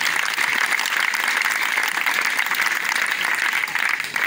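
A church congregation applauds in a dense, steady burst of hand clapping that fills the room evenly from start to finish, with no talking.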